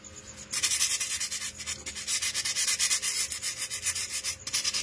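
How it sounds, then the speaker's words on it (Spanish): Hand sanding across a cut on a wood carving: a brief quiet start, then loud, close, rapid back-and-forth abrasive rubbing strokes in an uneven rhythm. "Voy a lijar ese corte."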